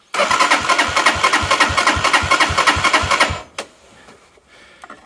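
A Lifan King motorbike's starter motor cranks steadily for about three and a half seconds in rapid, even pulses, close and loud, then cuts off, leaving faint clicks behind.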